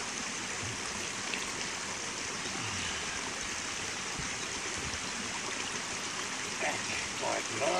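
A mountain river rushes and burbles steadily nearby in June, its continuous watery hiss running throughout, with faint voices occasionally mixed in beneath the flow.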